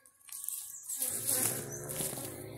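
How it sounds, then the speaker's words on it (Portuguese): Honey bees (Apis) buzzing around their hive box at dusk, a dense steady drone swelling in after a quiet start and staying loud and close to the end. "de eu estar mostrando as abelhas"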